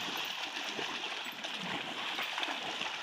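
Water splashes and trickles continuously outdoors, a soft, fairly faint, steady wash with small bursts, a voice faintly audible in the background.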